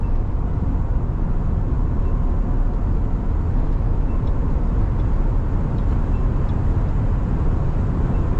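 Steady broadband roar of wind and road noise inside a Mahindra XEV 9S electric car cruising at around 130 km/h, constant and loud throughout with no speech.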